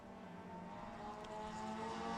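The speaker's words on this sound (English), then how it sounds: "Great sound effects from these cars." Racing cars pass on a circuit during an ICCR 2023 race, a sustained engine drone that swells gradually as a car draws nearer, heard alone without commentary.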